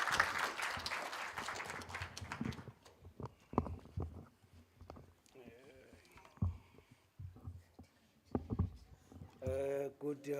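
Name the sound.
audience applause welcoming the Dean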